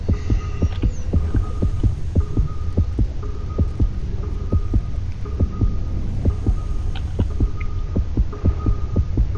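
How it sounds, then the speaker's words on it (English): A steady, fairly fast heartbeat thumps in a low, regular double-pulse rhythm throughout, over a constant droning hum in the underwater video game Depth, with a few faint mechanical clicks. "I hear a heartbeat."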